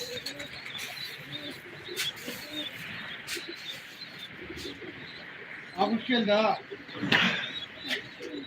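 Pigeons coo and chirp close by in a rooftop loft, with soft cooing throughout and a few louder bursts of calls and wing flutter. People talk intermittently over them.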